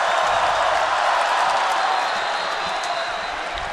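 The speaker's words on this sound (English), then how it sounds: "Crowd on their feet here in Paulson Stadium" Stadium crowd at Paulson Stadium during a college football game between Western Michigan and Georgia Southern, a loud, sustained roar of cheering that eases slightly toward the end.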